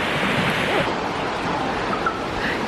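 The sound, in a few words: waterfall rushing water in Alaska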